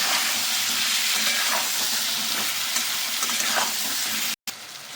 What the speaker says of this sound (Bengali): একটু নেড়ে চেড়ে সবজিগুলি ভেজে নেব